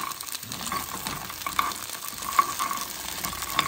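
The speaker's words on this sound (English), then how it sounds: "Hear that sizzle?" Quiet, steady sizzling of boiled acorns frying in a pan, with soft stirring scrapes and a few faint pops.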